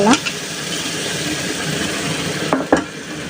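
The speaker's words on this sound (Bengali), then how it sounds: "এখন মাছগুলো এর মধ্যে ঢেলে দিব" Fish poured into a hot pan of oil, giving a loud, steady sizzle with a couple of clanks of utensil against the pan near the end.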